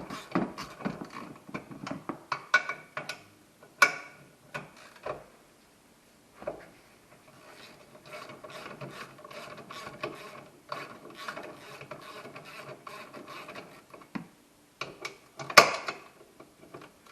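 Ratchet wrench with a swivel loosening 12 mm bolts behind the dash of a 2014 Yamaha Viking side-by-side during a steering install: bursts of rapid clicking ratchet strokes with pauses and small metallic handling noises, close up, no talk.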